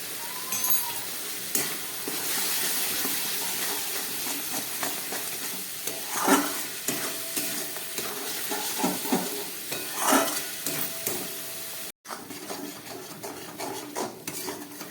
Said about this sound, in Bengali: এটাকে আরও কিছুক্ষণ কষিয়ে নিই